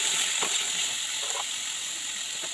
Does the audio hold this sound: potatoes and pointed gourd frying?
yes